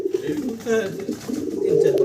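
Fancy pigeons, including a young dragon pigeon, give soft, repeated throaty coos close by, mixed with a voice talking over them.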